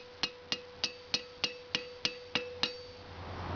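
A 1.5 kg flat-faced hammer strikes an antique wrought iron vice pivot pin on an anvil, nine evenly spaced ringing metallic blows about a third of a second apart, each with a short bright decay, close and clear.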